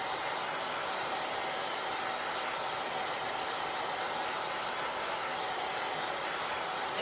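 A hair dryer blows constantly and loudly close by, drying chalk paste stencilled onto a wooden box frame. It gives an unbroken, even rush of air from start to finish with no talking.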